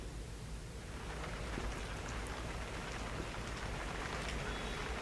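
Rain falling steadily in Srinagar, a quiet, even hiss of drops on surfaces with no voices, soft and unchanging throughout.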